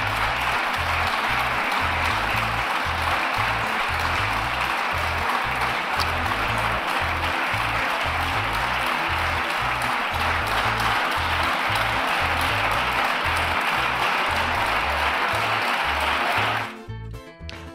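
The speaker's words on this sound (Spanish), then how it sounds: "estos aplausos que vimos ayer en el Congreso de los Diputados" Loud, sustained applause fills the Spanish Congress of Deputies chamber, a dense continuous clapping from many members that runs on for over fifteen seconds before tapering off abruptly.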